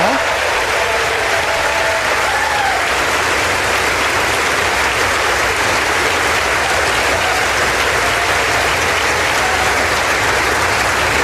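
Sustained, dense applause from a political audience during a speech, a loud even wash of clapping that carries steadily for about eleven seconds with no voice breaking through.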